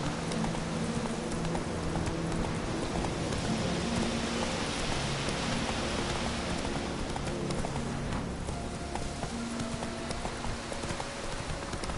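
Roach, Geralt's horse in The Witcher 3, gallops through rain with steady clip-clopping hooves over a constant hiss of rainfall, continuous and fairly loud throughout.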